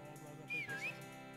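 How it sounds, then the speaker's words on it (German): A whistle blown once with a short warbling, sliding pitch, clear and fairly near against a quiet background. "Hör mal auf mit der Pfeife, Mann."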